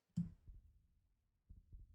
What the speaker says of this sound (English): the way we can hear the heartbeat.